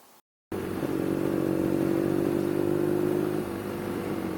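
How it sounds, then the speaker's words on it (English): A BMW R nineT motorcycle under way, its engine giving a steady, loud, close droning hum with a constant tone after a brief cut at the start, then easing slightly near the end. "I'm going to hop back on the bike and we will carry on in the homeward direction."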